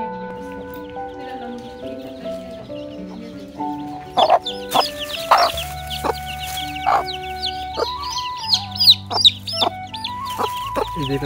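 A chicken let loose in a village yard clucks repeatedly in loud, close bursts, with a busy background of other fowl calls and a low steady hum underneath.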